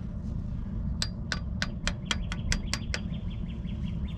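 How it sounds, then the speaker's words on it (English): A steel hammer lightly tapping an oiled bearing into place during assembly of a 6.7L 12-valve Cummins engine, nine crisp metallic taps in a steady row over a low, constant background hum. "So then I'm gonna take my hammer."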